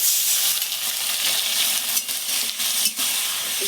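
A splash of water poured over a bean and mustard mixture in a hot pan sets off a loud, close, hissing sizzle with a few short bursts of bubbling and stirring, and no voices.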